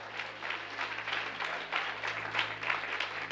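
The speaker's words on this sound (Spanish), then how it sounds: "Yo creo que esto merece un aplauso bien fuerte al Señor." Soft, somewhat distant congregation applause rises in a church during a Spanish-language sermon, a short burst of scattered clapping in uneven pulses over a low steady hum.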